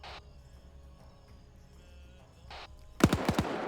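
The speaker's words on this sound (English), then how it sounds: "Oh, gunfire." In a video game, a low, hissing background with faint bursts gives way to a quick cluster of four or five sharp gunshots near the end, loud and close.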